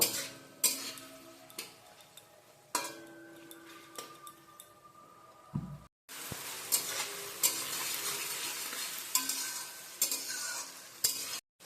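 Ginger and green chili paste fries in a pan with asafoetida, a sizzle that grows louder partway through, with repeated scrapes and clinks of a spoon stirring against the pot and no speech.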